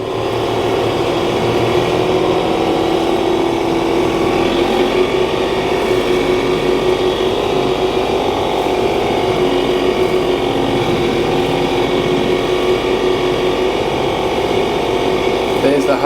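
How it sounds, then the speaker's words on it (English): A tractor engine drones steadily and loudly while a slasher cuts through dense grass along a fence line, the rough mechanical roar continuous throughout with no pauses. "Sure giving the tractor a workout getting through it all."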